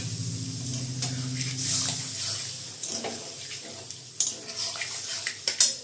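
Boiled milk is poured into a pan for a milk paneer dish, a steady liquid stream close by, then a few sharp clinks and taps of utensils toward the end.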